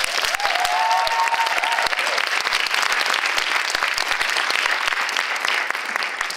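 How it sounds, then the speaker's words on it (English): Loud, sustained audience applause at a student arts festival showcase at Harvard, dense clapping with a brief cheer near the start, steady throughout and slightly fading at the end. "So we can give another round of applause to Kendall."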